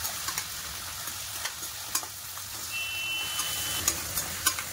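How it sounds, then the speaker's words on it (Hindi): Food lightly frying in hot oil in a home kitchen, a steady close sizzle with occasional stirring scrapes and clinks, plus a faint high whine partway through. "इसको लाइटली फ्राई कर रही हूँ मैं"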